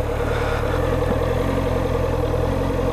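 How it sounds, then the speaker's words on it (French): Motorcycle engine idling steadily on a riding-test practice course, a continuous low rumble at close range with no talk over it. "On lance la moto."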